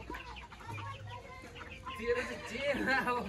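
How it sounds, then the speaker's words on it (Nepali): Chickens cluck and squawk as they are herded into their coop, the fowl calls steady and fairly close beneath people talking. "अहिले चाहिँ घुमेर आएर हामी यसो कुखुरा हुल्ने कार्यक्रम गर्दैछौँ"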